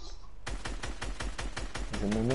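Rapid video game gunfire, a steady rattling burst of about a dozen evenly spaced shots at moderate loudness, followed by a voice speaking at the end.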